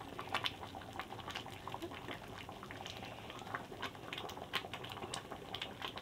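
A pot of chickpeas bubbles and boils steadily, with soft popping and gurgling bursts throughout at a close, moderate level.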